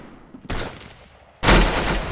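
Gunfire from a gun in the video game Arsenal: two rapid bursts of shots, a quieter rattle followed by a louder, denser volley, with no talking.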